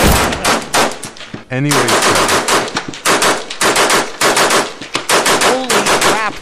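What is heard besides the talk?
machine gun fire in Melon Playground video game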